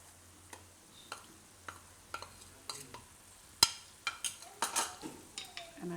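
A spoon stirs jowar flour into boiling water in a pot on the stove, giving a run of sharp taps and scrapes spaced about half a second apart, growing busier and louder toward the end.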